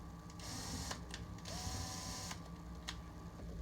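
A screw gun set to a very low torque of about 4 drives small screws, giving a steady whirring motor hum with brief rising and falling bursts of higher-pitched whine, close and unbroken by speech.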